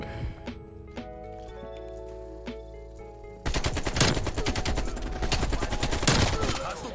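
AK-47 gunfire in the video game Call of Duty Cold War, starting with a few scattered shots over game sounds and then turning into a loud, sustained rapid-fire burst up close.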